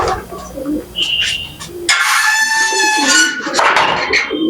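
A domestic pigeon of a pet flock coos nearby, its soft, repeated calls broken by sharper chirps and bird chatter, all fairly close and loud over quiet background noise.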